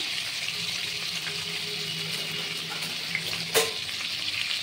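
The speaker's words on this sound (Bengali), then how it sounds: "কড়াতে তেল বসিয়ে দিয়েছি, একটু সামান্য নুনের ছিটা দিয়ে আমি এই পনিরগুলো এপিট ওপিট করে তুলে নেব" Paneer cubes frying in hot oil in a kadai, a constant close hiss and crackle with one brief sharp clink near the end.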